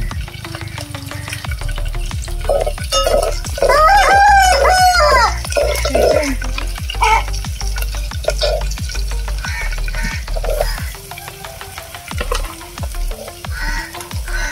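Green chillies and cumin seeds fry loudly in a pan with a steady sizzle and crackle. A rooster crows in the background partway through, and no one speaks.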